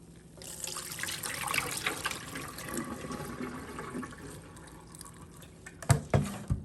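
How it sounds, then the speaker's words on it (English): Cold tap water runs over raw shrimp in a kitchen as they are rinsed, a steady trickling splash that rises and falls, ending with a couple of louder knocks and splashes. "I wash with cold water"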